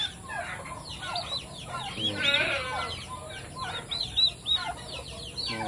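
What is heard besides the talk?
turkey chicks peeping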